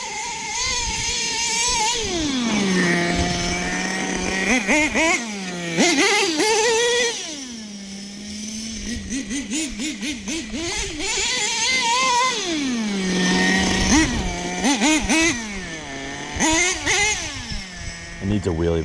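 A Team Associated mini MGT 3.0 nitro RC monster truck with a .21 engine screams through repeated rising and falling revs, with sharp bursts of acceleration and deceleration, loud and close throughout.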